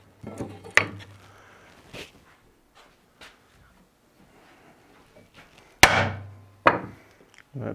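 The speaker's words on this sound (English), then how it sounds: "I'm going to clamp it on there so it doesn't move." A clamp is fastened to hold a cabinet template onto a wooden workpiece, giving a few sharp knocks and wooden thumps separated by quiet gaps, with two louder bangs near the end.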